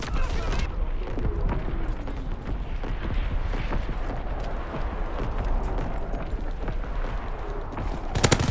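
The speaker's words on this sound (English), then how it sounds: "Firing division artillery." A division artillery strike in Call of Duty WWII, a dense, continuous rumble of blasts and booms filling the mix, loud and sustained, with a sharp burst near the end.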